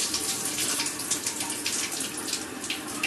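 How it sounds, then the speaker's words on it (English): Water runs steadily from a faucet in a continuous hiss with a faint splash, at moderate level and without voices. "Then you can turn your water back on."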